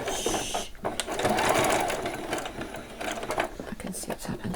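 A sewing machine runs a short back stitch on small doll jeans, with a steady close mechanical whir and rapid needle ticking that briefly pauses and restarts. Faint talk sounds underneath.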